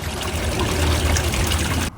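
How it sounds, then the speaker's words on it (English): Flood water gushes from a store building across a parking lot into a drainage pipe, a steady loud rushing flow that cuts off abruptly at the end. "You can see just how much water is flowing from the building into the parking lot and into this drainage pipe in the back."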